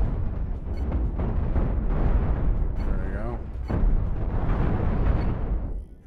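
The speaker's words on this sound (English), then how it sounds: "Shoot his guns, boys." Spaceship guns in Cosmoteer fire in a rapid, overlapping barrage of thumping blasts and crackling impacts, loud and nearly continuous for about six seconds before cutting off sharply.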